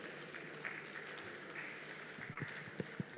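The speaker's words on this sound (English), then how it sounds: "Please another round of applause for my Lord" Faint, distant applause from an audience at a conference closing ceremony, a soft continuous patter with a few sharper claps near the end.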